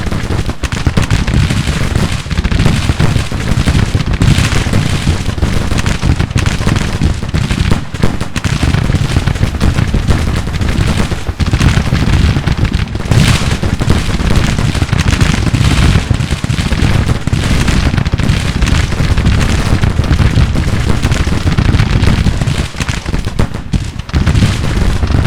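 Continuous battle din from Grand Tactician: The Civil War, a Confederate campaign fight near Winchester, with artillery and massed gunfire booming and crackling densely and loudly throughout, no voices.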